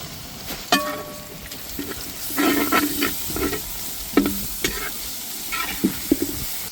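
About 25 grams of garlic paste fries in onions in a pan for a cauliflower masala, a close bubbling sizzle punctuated by repeated spatula scrapes and taps.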